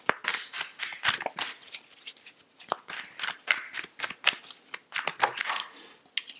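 Rapid, crisp riffling and slapping of tarot cards being shuffled, in quick irregular bursts close up, with no voices.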